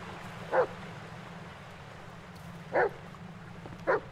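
A dog in the Blair Witch video game barks three separate times, short sharp yips spaced a couple of seconds apart over a low ambient hum, heard at a moderate distance.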